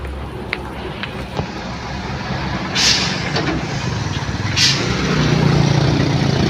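Dump truck engine straining on a steep hill climb, a loud, steady low rumble with sharp air hisses breaking in twice.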